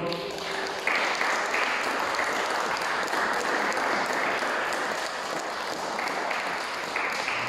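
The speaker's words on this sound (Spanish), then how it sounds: "Den un aplauso al Señor." A Spanish-speaking church congregation gives sustained applause to the Lord, a steady wash of many hands clapping with a few faint voices mixed in.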